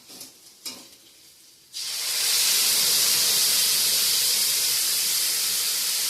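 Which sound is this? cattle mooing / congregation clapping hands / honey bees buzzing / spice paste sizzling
spice paste sizzling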